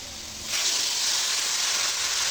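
Water is poured onto vegetables frying in a pan for Bengali shukto, setting off a sudden loud burst of hissing steam that stays strong and steady after a quiet opening moment.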